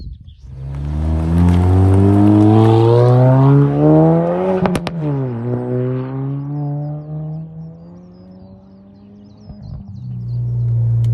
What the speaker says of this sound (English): I think it's time to get behind the wheel and take it for a drive